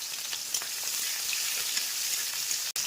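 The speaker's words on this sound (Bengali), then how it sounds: "তেলের সঙ্গে চিনিটা মেল্ট হয়ে গেলে আমি পেঁয়াজ কুচি দিয়ে দেবো" Chopped onion frying in hot oil with melted sugar, giving a steady, close broadband sizzle that runs unbroken for the whole stretch, with a brief dip near the end and no talking.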